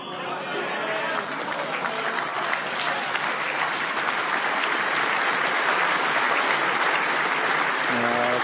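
A large crowd applauds steadily at an indoor bowls final at Hopton-on-Sea, a sustained dense clapping that swells toward the end, with a commentator's voice and some chatter underneath.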